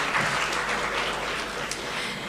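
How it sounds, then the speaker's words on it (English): An audience at a livestreamed conference event in Ghana claps in a steady, moderately loud burst of applause that carries on through the whole moment without a clear peak. "A round of applause for her,"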